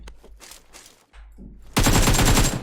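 AKM assault rifle fire in the mobile battle royale game PUBG Mobile, a few faint distant bursts followed by a sudden loud, sustained close-range volley of rapid shots.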